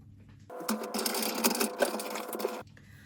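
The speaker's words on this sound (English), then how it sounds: "I'll just go and put this through my die cut machine." A die cut machine presses foil onto card for a Halloween card, giving a steady motorized whir with a mechanical grind for about two seconds, close and fairly loud, with quiet room tone before and after.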